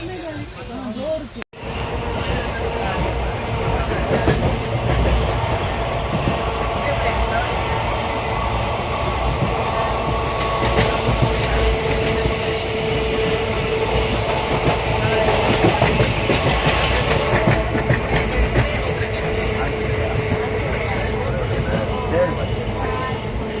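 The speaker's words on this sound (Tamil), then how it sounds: "கரெக்டாக ஒம்பது மணிக்கு ட்ரெயின் ஏற்றுனாங்க மூவாயிடுச்சு" A moving passenger train bound for Chennai rumbles steadily with rhythmic clattering of wheels over rail joints, continuous and close, heard from inside the carriage.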